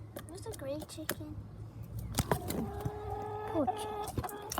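Chickens clucking in a farmyard as they go after a caught mouse, with short harmonic calls and scattered pecking sounds at moderate distance under a steady low hum.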